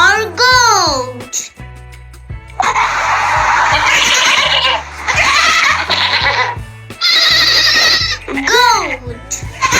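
A wavering, nasal goat bleat stands out over a bright, busy musical backing, with a voice chanting in between.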